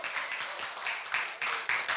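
Congregation at a church meeting applauding in sustained, dense clapping that swells in several waves across the two seconds, loud and close, with no talk over it.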